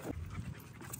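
A dog panting close by while running around on a grassy lawn, a steady quick rhythm of breathy huffs with a faint whimper-like tone, no talking.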